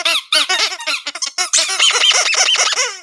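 A rapid run of high, squeaky honking bursts, loud and close, repeating in quick succession like a rubber squeaky toy being squeezed over and over.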